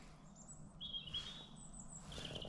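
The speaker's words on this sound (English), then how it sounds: "the last of the bird song." Birds chirping and calling in local woods in Northumberland at dusk, several thin high whistling notes carrying over a quiet, low outdoor background.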